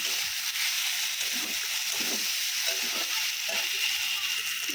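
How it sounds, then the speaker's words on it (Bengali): Onions with dried red chilli and whole garam masala fry in a wok with tomatoes, making a steady, close, even hiss that runs unbroken throughout. "শুকনো লঙ্কা আর গোটা গরম মশলা দিয়ে পেঁয়াজটা ভেজে নিচ্ছি"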